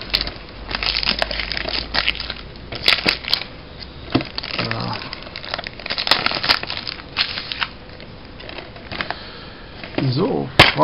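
Someone unpacking a German DVD box set of the third season of Verliebt in eine Hexe, with plastic wrap crinkling, tearing and crushing in irregular bursts and the case clicking, heard close and mixed with talking.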